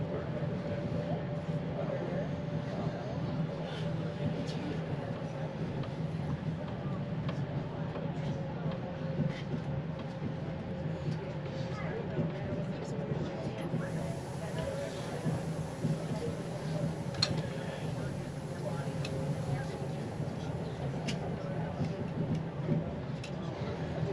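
Pikes Peak cog railway train climbing a steep 25% grade toward the 14,112-foot summit, a steady low mechanical rumble and drone with faint rattles, continuous and fairly even, with quiet talk in the background.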